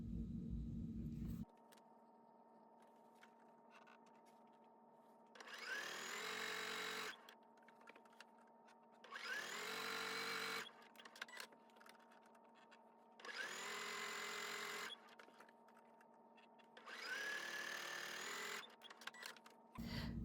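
A sewing machine stitches quarter-inch seams on a quilt block in four separate bursts of a few seconds each, a close whirring hum with quiet pauses between runs.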